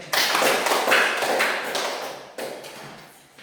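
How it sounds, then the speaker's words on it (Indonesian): A small group claps together in short bursts during a scripture-reading lesson, with a dense patter of hands that fades, then a second burst starts and tapers off. "Tepuk tangan untuk Tuhan"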